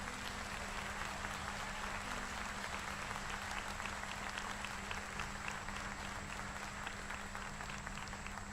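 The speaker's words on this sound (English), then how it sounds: "Let's give all of them a big applause" An audience at a nurse pinning ceremony gives a steady, sustained round of applause for nursing graduates, even and continuous over several seconds, heard from somewhat far away beneath a constant low hum.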